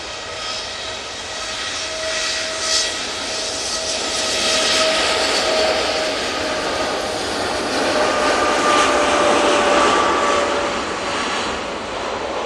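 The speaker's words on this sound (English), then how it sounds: "Off to Malaga we go with this Dreamliner" A Boeing Dreamliner jet engine roar on takeoff at Manchester Airport, loud and sustained with a steady whine, swelling midway as the thrust builds, with no talk.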